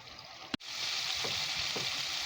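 Chicken pieces for a smothered mushroom chicken fry uncovered in an open pan over medium heat. A sharp clack is followed by a continuous, even sizzle.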